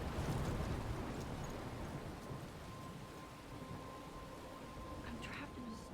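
A storm in the video game Life is Strange gives steady, hissing rain with a low thunder rumble underneath, fairly quiet and continuous throughout.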